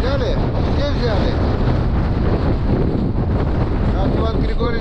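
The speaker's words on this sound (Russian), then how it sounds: "Это когда ветер сильно дует" Strong wind blows across a lake during a fishing trip, a constant loud roar buffeting the microphone, with water splashing and the rumble of a boat underneath.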